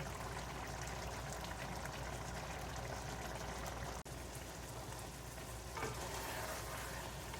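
Desi-style spicy chicken masala with tomato and onion simmers and sizzles in a pan as its water cooks off, a steady close bubbling fry with faint stirring and one brief drop out partway through.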